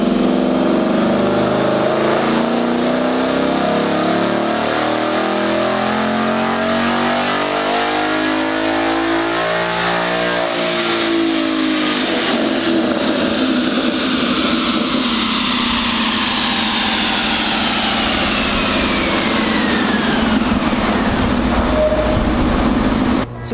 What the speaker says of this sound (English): So we just ran the car on the dyno,